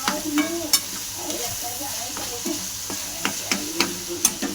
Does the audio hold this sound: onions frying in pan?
yes